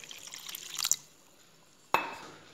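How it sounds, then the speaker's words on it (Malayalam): A quarter glass of water goes into a pan for a Kannur-style fish curry: a short close trickle builds to a splash, a pause, then a second sharp splash that fades away. "ഇതിലേക്ക് 1/4 ഗ്ലാസ് വെള്ളം ഞാൻ ഒഴിച്ചു കൊടുക്കുന്നുണ്ട്."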